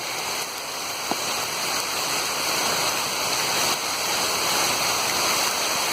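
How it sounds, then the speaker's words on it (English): Heavy tropical rain pours steadily in the Amazon jungle, a dense, constant hiss of water close around, loud and unbroken for the whole stretch with no voices. "Oh, it's pouring. I can't even see."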